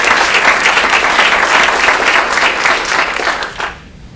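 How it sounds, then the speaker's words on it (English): An audience at a real estate team meeting breaks into a dense round of applause for a colleague, loud sustained clapping that tapers off and stops just before the end. "Give Katie a round of applause"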